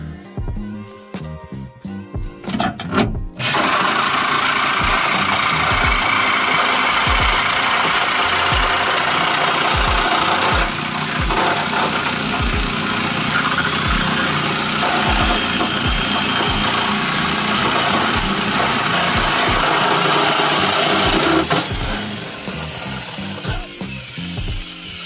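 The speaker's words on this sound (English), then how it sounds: "Now I'm gonna take the Sawzall and cut that brace." Sawzall reciprocating saw cutting through a steel body brace on a 1968 Ford, a loud rapid harsh chattering of the blade grinding through metal for most of the clip after a short startup.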